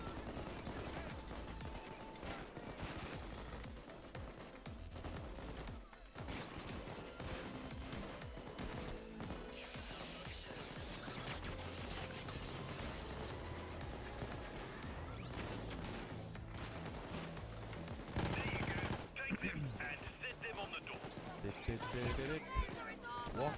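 Rapid gunfire and crashing impacts in the heist video game Payday, crackling continuously through the whole stretch, quiet overall with a louder burst near the end.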